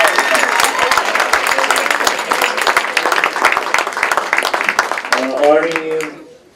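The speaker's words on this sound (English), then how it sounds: "A round of applause." Audience applause at a fifth anniversary celebration of a social justice center: dense, loud clapping from a crowd, sustained and close, tapering off near the end as a voice begins to speak.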